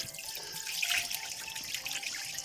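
Running tap water splashes steadily over a rainbow trout being washed at a sink in a camping caravan, a close, continuous gush with small splatters and drips.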